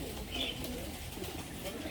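A pigeon coos at an indoor bird sale, set against a steady crowded hum of voices and other bird calls, with no clear talk close by.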